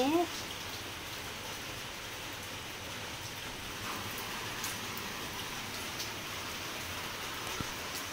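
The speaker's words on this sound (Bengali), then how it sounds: "দেখো ঘরে ঢুকলাম, আর কি জোর বৃষ্টি শুরু হয়ে গেল" Heavy rain pours steadily, a dense, even hiss that stays unchanged from start to finish.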